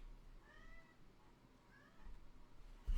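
A cat meows twice, faint and close, in a quiet room, with a short gap between the calls and a thump at the very end.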